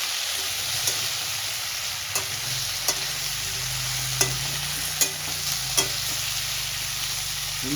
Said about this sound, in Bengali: আমি আলু আর কুমড়ার ডাটাটা ভালো করে ফাটলে নেব